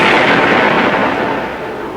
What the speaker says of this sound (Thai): เอ้ยรถระเบิด